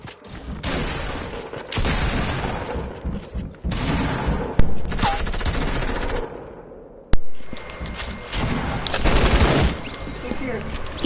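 Light machine gun fire in a video game rattles in loud sustained bursts broken by short pauses, with people talking over and between the volleys.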